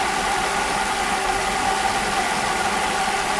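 Car engine idling after its fuel distributor was rebuilt, a steady, dense mechanical hum with even vibration, loud and close, with no talking.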